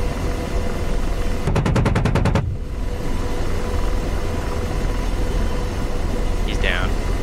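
A 30mm aircraft cannon in the DCS combat game lets off a single fast burst of high-explosive rounds, roughly a second of rapid thudding, over a constant engine drone. A faint chirp follows later.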